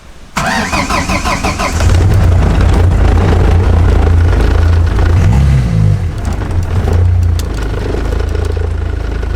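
A Ford Escort Mk4 diesel van cranks briefly and starts, then settles into a loud, steady idle with a low rumbling drone, heard close and without speech.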